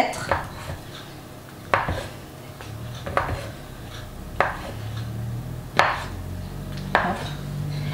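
Rolled brioche dough sliced into spiral buns with a knife on a board, giving several separate thuds and knocks at irregular intervals over a soft background hum, with no talking.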